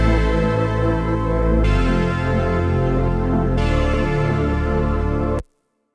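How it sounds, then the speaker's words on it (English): Synth break leads from a tech house remix form a dense, loud layered chord pattern with a thick bass underneath, opening up brighter partway through and cutting off sharply near the end. "And then heading over to the break leads, they sound like this."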